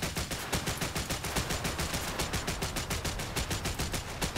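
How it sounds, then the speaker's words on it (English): Onboard machine gun of a small patrol boat in War Thunder rattles in a sustained, rapid, even burst of shots, loud and close, with no talking over it. "Angry onboard machine gun."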